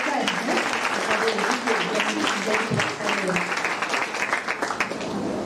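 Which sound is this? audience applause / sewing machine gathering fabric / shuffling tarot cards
audience applause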